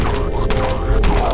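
Rapid gunfire in the zombie shooter Dead Frontier crackles close and loud, with two sharp bursts standing out over a continuous rattle of shots.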